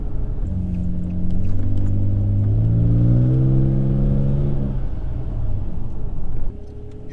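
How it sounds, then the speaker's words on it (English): A truck with a cheap aftermarket exhaust and catalytic converters roars as the engine revs hard at full throttle, its deep, loud rumble rising in pitch before easing back toward idle. "Give you a little full throttle shot here."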